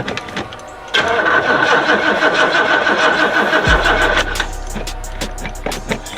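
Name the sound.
1987 Oldsmobile Cutlass engine cranking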